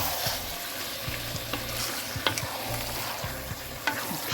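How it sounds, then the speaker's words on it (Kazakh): Pieces of horse meat fry for kuyrdak in a pan, giving a constant close sizzle broken by repeated scraping and clinking stirs, with no talking. "Етіміз жақсы қуырылып жатыр."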